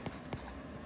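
Chalk or marker strokes on a board during a Korean fluid mechanics lecture for a fire protection engineering exam, a few short scratchy strokes close by, faint and brief with quiet pauses between them.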